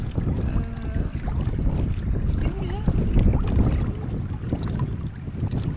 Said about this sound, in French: il y a vraiment plein de vent là qui se met à souffler d'un coup